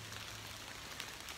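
Rain falls on a front yard outside a house, a soft, steady patter and hiss heard alone at low volume.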